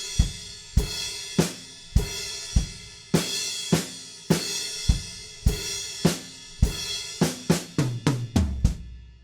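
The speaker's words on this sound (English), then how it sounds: "The fill halfway through this chorus does change a little bit, and it sounds like this." A drum kit plays a fill halfway through a chorus: sharp, evenly spaced hits that speed into a rapid flurry of strokes near the end, loud and close with no voices.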